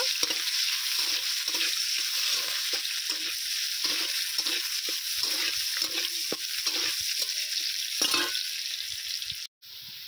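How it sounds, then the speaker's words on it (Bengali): Onions frying in a pan for a cauliflower and potato curry, a loud, steady sizzle and crackle with periodic stirring scrapes throughout, close up, ending in a brief cut-out near the end. "এবারে পেঁয়াজটাকে একটু গোল্ডেন করে ভেজে নেব।"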